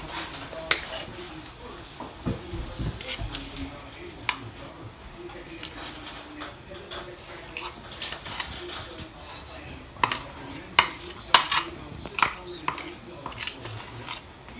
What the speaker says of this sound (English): Now we're going to mix it with a spoon.